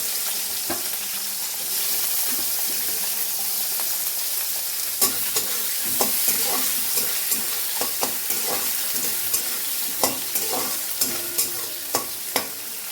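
Chana dal, dried red chilli and chopped onion fry in hot oil with a loud, steady sizzle, while a utensil stirs the pan in regular sharp scrapes and taps, close up.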